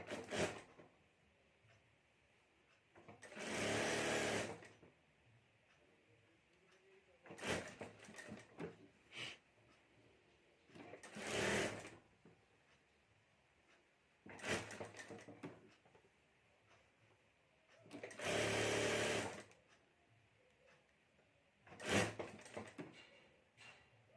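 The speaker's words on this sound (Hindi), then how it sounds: "अंदर एक बार मोड़कर यहाँ ऊपर हमें सिलाई कर देनी है" A sewing machine stitches a folded fabric border for a homemade clutch in six separate runs, each a loud, even buzz lasting a second or two, with quieter handling noises and pauses between them.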